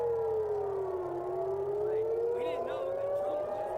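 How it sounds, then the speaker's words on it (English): A loud air raid siren wails steadily over Tel Aviv, its pitch dipping and then slowly rising, with faint higher tones drifting in near the end. "we have now got sirens back in Tel Aviv. We got sirens in Tel Aviv."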